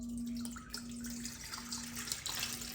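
Tap water runs steadily into a bowl while homemade butter made from raw milk is washed, a continuous close splashing rush with no voices.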